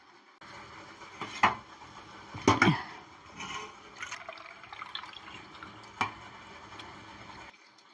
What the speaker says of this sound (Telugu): ఇగో నీళ్ళు పోసుకుంటున్నా.